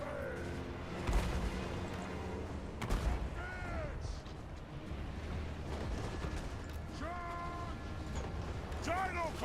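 Artillery fire in a dwarf fantasy strategy battle, with heavy booms thudding twice amid a busy battlefield mix, over and under talking voices and other game sounds.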